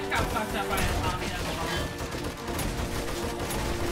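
Rapid AK rifle fire in the zombie survival game 7 Days to Die during a night horde, dense overlapping shots at steady loudness with other sounds mixed in.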